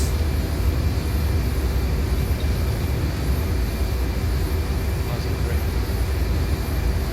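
An Embraer jet takes off in a flight simulator, with a steady, loud, broadband engine roar and rumble that stays constant throughout, no talk.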